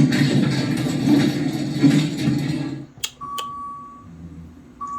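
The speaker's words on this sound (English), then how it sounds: "Hold on, I'll let you hear this chime." A bright electronic elevator arrival chime rings out after a stretch of rumbling from a hydraulic elevator at a Courtyard Marriott, a couple of clear tones sustaining and then fading, fairly close and alone.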